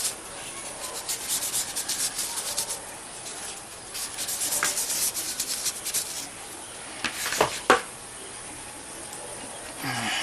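Old, dried thermal paste is rubbed and scrubbed off a graphics card during cleaning, making close, continuous scratchy friction with uneven strokes and a few sharper scrapes near the end.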